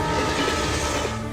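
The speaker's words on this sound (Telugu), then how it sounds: "తర్వాత ట్రైన్ ఈయన కొట్టేసింది." A train rushing past close by on a railway track, a steady loud rumble of rolling wagons with faint clickety-clack, sustained through the whole short moment with no talk over it.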